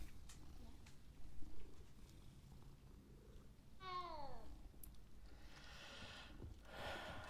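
Soft cat purring from a cat being petted in the Hogwarts Legacy video game, a low rumble under faint background game sounds, with a brief meow-like chirp midway.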